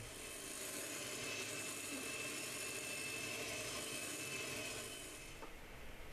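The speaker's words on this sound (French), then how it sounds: "on va prendre notre batteur électrique et battre toute notre préparation" An electric hand mixer beats carrot cake batter with grated carrots, giving a continuous, fairly faint motor whir and churning hiss that runs steadily for about five seconds before easing off.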